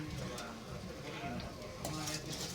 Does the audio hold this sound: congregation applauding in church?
no